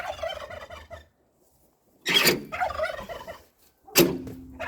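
Three loud turkey gobbles burst out with pauses between them, the last cut short, over a faint rustling background in a farmyard.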